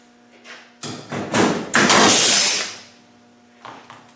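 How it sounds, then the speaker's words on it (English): An air-operated gun knocks out rivets during assembly of a VapourMax Pro 750, giving a few sharp thuds and then a sustained loud pneumatic burst of about two seconds, with clattering hits near the end. "So this is how the air operated gun works. It's easy as that, and it blows all the rivets all over."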